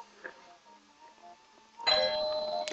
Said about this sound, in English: Oh, my doorbell just rang.